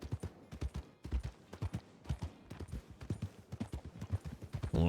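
Horse hooves clip-clop steadily in Red Dead Redemption 2, a brisk rhythmic run of close, fairly loud thuds that carries on without a break and has no talking over it.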